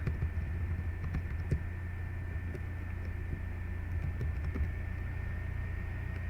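Soft keyboard typing while entering text into a code editor's extension search, a few light clicks scattered over a steady low room hum.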